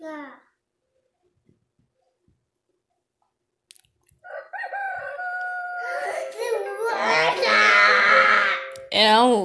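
A rooster crows in a loud, wavering burst after a quiet start, and a voice and other talk are heard around it.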